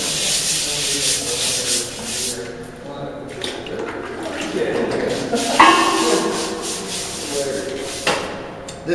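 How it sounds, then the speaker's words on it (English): Close scrubbing around the bunghole of a wine barrel with citric acid: steady rubbing, brushing strokes that rise and fall over a few seconds, with soft wet scuffs. "Step two, scrub around the bunghole with citric acid."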